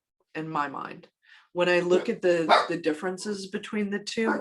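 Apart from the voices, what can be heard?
dog barking at someone in the driveway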